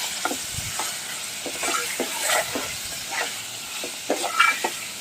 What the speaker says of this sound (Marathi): तिखट तेलात चांगलं परतवलं की आपला मसाला घालायचा